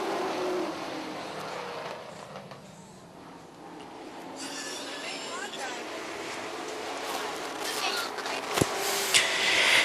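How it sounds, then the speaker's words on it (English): Race cars circle Charlotte County Speedway at the start of a green-flag run, their engines a steady, fairly distant drone that swells toward the end beneath an announcer's commentary. "Green flag's out, we're racing."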